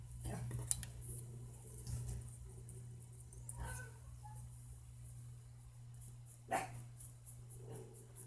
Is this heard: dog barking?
yes